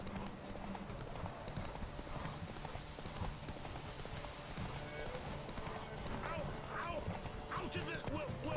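Rhythmic horse hooves clip-clop along at a steady walk in a video game, with a quiet game soundscape and talk running underneath.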